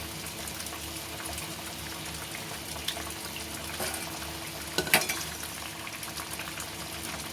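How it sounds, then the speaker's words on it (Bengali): Bitter gourd pieces tipped into a simmering Bengali sukto broth in a pan, giving a steady bubbling, liquid hiss with a few soft splashes and clatters around the middle, close and continuous with no talk. "এবার এর মধ্যে উচ্ছেগুলো সব দিয়ে দেব।"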